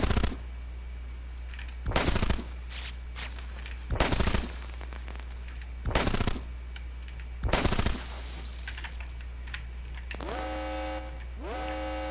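Weapons fire in the robot video game POLYBOT-7: five loud, sharp bursts of rapid shots spaced about two seconds apart, followed by quieter descending electronic tones near the end.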